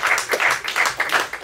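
Audience applause as a seven-string electric guitar with a tuner is presented as a gift at a concert event, a short steady burst of clapping from a crowd.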